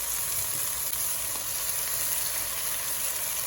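Blended tomato with salt, chaat masala and chilli spices sizzles steadily in a pan as it cooks, giving a continuous close hiss and crackle with no talking.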